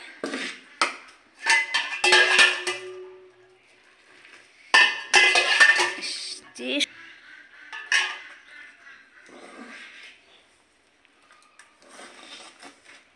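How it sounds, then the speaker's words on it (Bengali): Rice-flour dough worked by hand in a bowl with hot water, giving irregular clinks and scraping knocks against the bowl. The bursts come in bunches with quiet gaps, and faint talk is heard now and then. "দেখুন আরও কিন্তু গরম জল দিয়ে দিল, ভালো করে মেখে নিচ্ছে"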